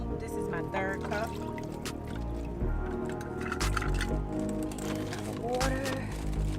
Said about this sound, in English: I'm adding my cups of water for my soup.